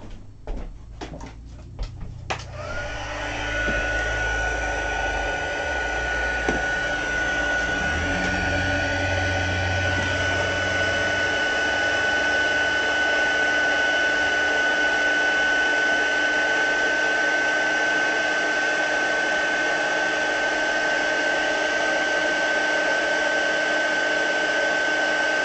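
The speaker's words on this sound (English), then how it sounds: "I have a dimensional in my white embossing powder. So let's heat set this." Heat tool blowing hot air to set white embossing powder, a loud steady whine and rush that starts after a few brief clatters and then runs on evenly for the rest of the stretch.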